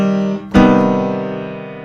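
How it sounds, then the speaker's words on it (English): A single minor major seventh chord is struck once, with a soft lead-in tone first, then rings out alone and sustains while slowly fading. "It's a minor triad with a major seventh, and it sounds like this."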